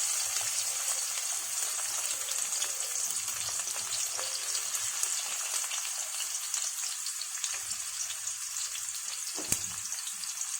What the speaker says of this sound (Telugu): ఇవన్నీ వేసి బాగా వేయించుకోవాలి.